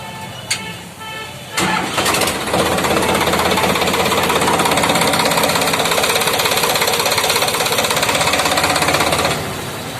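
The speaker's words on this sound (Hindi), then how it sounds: "ट्रैक्टर को दिखाएंगे स्टार्ट करके दिखाएंगे।" An ACE 550Di tractor's diesel engine cranks and catches, then settles into a loud, steady rhythmic chugging idle nearby, with a brief voice heard before it starts.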